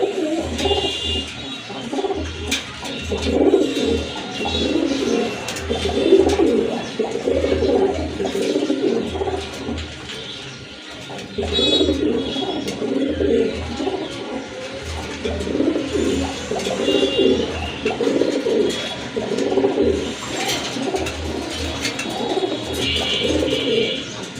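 Pigeons cooing at a pigeon market, including red Rajgolla pigeons, a steady rhythmic stream of low throaty coos repeating close by throughout, with no talk.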